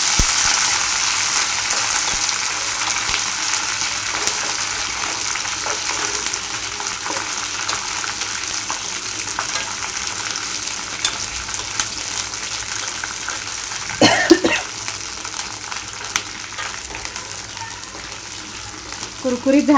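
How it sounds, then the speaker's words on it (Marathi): Curry leaves fry in hot oil for a curry leaf chutney, a dense steady sizzle that runs throughout with a brief louder burst of crackling partway through, and no talking. "त्याच्यानंतर आपण ह्याच्यामध्ये कढीपत्ता तळून घ्यायचा आहे।"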